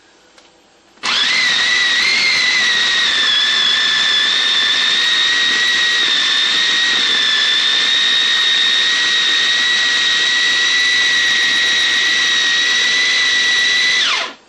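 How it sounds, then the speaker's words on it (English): A kitchen blender purées a hot sauce mixture with onion for buffalo chicken lasagna. It starts abruptly and runs at a loud, steady high-pitched whine for about thirteen seconds before cutting off. "You want to blend this with your onion to get it creamy before we add any more ingredients."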